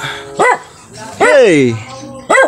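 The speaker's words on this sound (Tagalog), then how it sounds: "Yan, ayan yung mga tuta." Puppies at a dog rescue yelp out three short, high-pitched barks close by, spaced apart, while a person calls out once.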